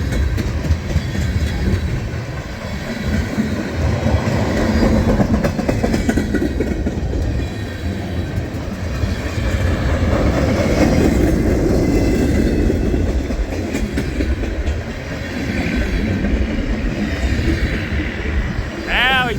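Freight train with many tanker cars rolling past in Illinois, a loud continuous rumble and clickety-clack of wheels over rail joints close by, with a faint squeal near the end.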